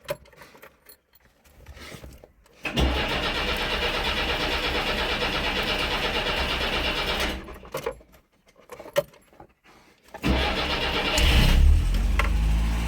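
A Polonez van with a 1.5 LE engine is cranked over in two bursts: quiet rattling, then a long steady cranking roar, a pause with clicks, and finally the engine catching and revving loudly near the end.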